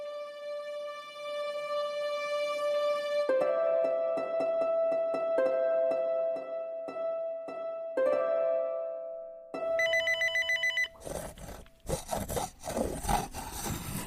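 A telephone rings in an audio drama, a steady electronic tone repeating through the scene alongside clattering and tapping, with a brighter, more intense ringing passage near the end; faint and fairly distant overall.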